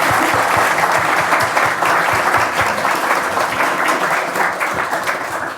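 A library audience at The London Library applauds to welcome speakers, producing dense, sustained clapping from many hands that stays loud throughout and eases slightly toward the end.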